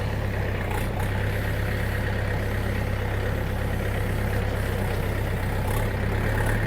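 A DTZ 5404 tractor engine runs steadily at close range during a gearbox test, giving a continuous low, heavy rumble with an even idle-like drone and no talk over it.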